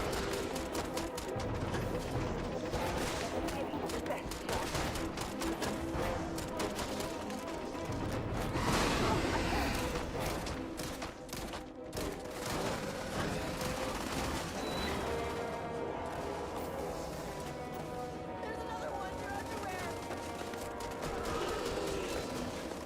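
Sustained gunfire in the sci-fi shooter Starfield, rapid bursts and rattling volleys layered with whooshes and impacts, dense and steady throughout at moderate loudness.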